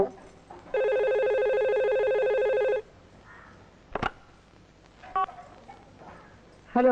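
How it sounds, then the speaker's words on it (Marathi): A telephone rings with a single sustained electronic ring tone lasting about two seconds, followed by a sharp click and brief tones, with a voice speaking in between. "सुमन, क्राईम ब्रँच मधनं फोन आला असेल."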